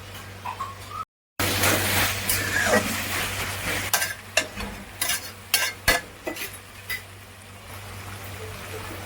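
Veg hakka noodles being stir-fried with green chili sauce, red chili sauce and salt, a steady sizzle broken by a brief gap, then a run of sharp spatula scrapes and clinks against the pan.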